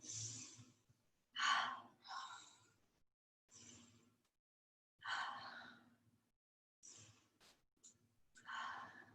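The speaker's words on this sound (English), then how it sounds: "Let's take a couple cleansing breaths." A handful of slow, deep cleansing breaths during a yoga session, each soft inhale and exhale separated by quiet pauses, close and faint with no talk.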